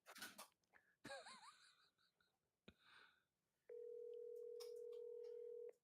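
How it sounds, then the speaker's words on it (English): A phone call goes out and a steady electronic ringback tone plays for about two seconds at the end, following some rustling and brief handling noises. "Calling him on the phone."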